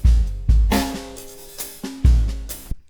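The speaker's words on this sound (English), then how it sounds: "I have some drums which sound like this." A drum loop with heavy kicks and snare hits in a steady groove, with some tonal ringing between hits, played alone and fairly loud.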